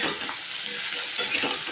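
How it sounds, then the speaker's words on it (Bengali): Potatoes and ridge gourd fry in oil in a pan, a bright, close sizzle with a couple of spatula scrapes near the end of the short stretch. "আর এখন আলু আর ঝিঙেগুলোকে একটু লাল লাল করে ভেজে নেব"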